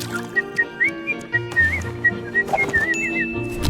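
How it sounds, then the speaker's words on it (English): Cartoon character Gumball whistles a bouncy tune alone, a clear close melody of short trilling phrases over soft background music. "Gumball specifically whistling the background music as he uses a museum as a bathroom"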